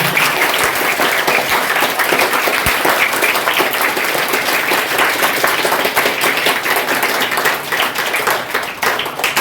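A school audience at a school entry festival in a village near Porbandar applauding, loud, dense, sustained clapping from many people that continues unbroken throughout.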